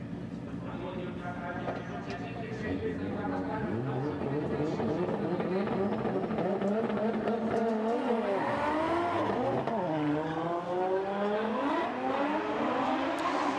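Drift cars, a Nissan 180SX leading and a second car in the chase, race at Sportsland Sugo in Miyagi during a Formula Drift Japan top 16 battle, engines revving and rising in pitch continuously beneath an excited commentator's voice.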